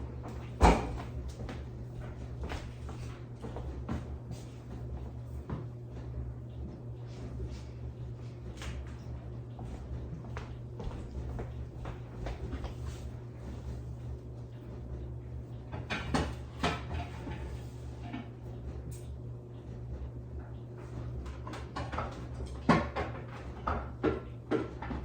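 Kitchen cupboard doors opening and closing and pans clanking while someone searches for a baking pan, scattered knocks and thuds over a low steady hum, fairly faint and close.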